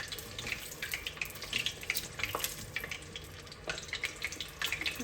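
Pork and vegetable egg rolls frying in a pot of oil, a soft steady crackle and bubbling sizzle with scattered pops, fairly quiet and uninterrupted.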